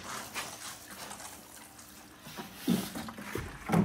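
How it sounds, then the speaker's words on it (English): Water trickles softly from a watering can onto a wheatgrass pad grown for worms, a faint, uneven dribbling and splashing with a couple of louder spatters toward the end. "And just give it a little shot of water."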